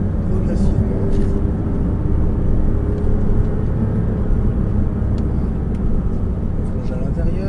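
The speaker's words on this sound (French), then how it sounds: "On plonge à l'intérieur et on réaccélère de plus en plus fort vers l'extérieur." A Porsche Cayman S accelerates hard out of a corner on a race circuit, a dense, loud engine rumble heard from inside the car and holding steady throughout.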